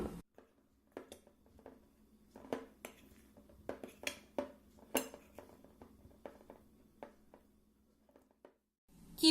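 Paneer pieces are gently mixed with cornstarch and all-purpose flour in a bowl, with a utensil clinking and tapping against the dish in a quiet, irregular series of close knocks before it stops.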